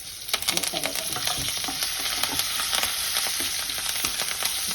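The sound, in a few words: stirring tempering into semiya pulihara in pan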